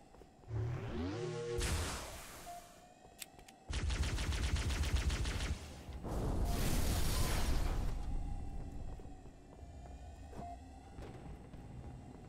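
Enemy gunfire in a Halo video game, heavy rapid bursts and rumbling blasts in several long loud stretches, with sharp individual shots and a steady tonal hum between them.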